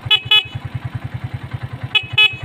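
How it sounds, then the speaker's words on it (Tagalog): Stock horn on a Honda TMX Alpha 125 motorcycle honks in two short double blasts, loud and close, over the steady rhythmic putter of the idling engine. "stock horn."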